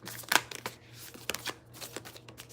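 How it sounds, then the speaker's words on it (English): Oracle cards are shuffled by hand, making soft, uneven riffling and slapping sounds close up, with one sharper snap near the start. "I always shuffle till I get 3"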